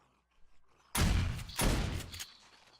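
In the 7 Days to Die Alpha 16 survival game, an auto turret and a shotgun turret fire on zombies: two loud, close bursts of rapid gunfire, the second longer and tapering off, with no talking.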